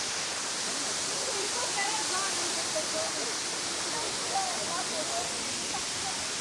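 Kulimagod waterfall at Magod roars as a steady, dense rush of falling water, continuous and fairly loud throughout, with faint voices mixed into the wash.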